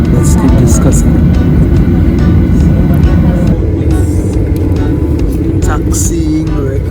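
An airplane taxiing away from South Florida gives a steady, loud low engine rumble throughout, with faint talk beneath it.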